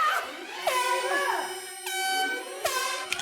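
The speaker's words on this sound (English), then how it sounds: "goddamn air horn" An air horn blares in several loud, wavering blasts, some bending in pitch, with brief gaps between them.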